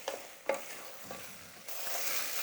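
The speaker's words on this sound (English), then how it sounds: "I start to hear that the nopales are starting to fry in the oil that we cooked those onions in" Sliced nopales cactus frying in onion-flavored oil in a pan, a soft continuous sizzle with a few faint stirring scrapes, growing a little brighter and louder toward the end.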